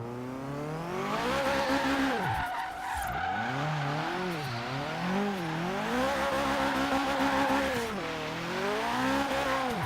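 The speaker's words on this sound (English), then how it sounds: "Yeah, see, now we're spinning the tires in third." A tuned car drifting in Forza Horizon 3 gives a sustained tire screech over a loud engine whose revs rise and fall, while the wheels spin in third gear throughout.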